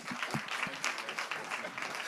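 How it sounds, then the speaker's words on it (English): Audience applause after a speaker at a real estate exchange event in the Bahamas, a short burst of scattered clapping mixed with voices, fairly quiet and brief. "Give him a round of applause"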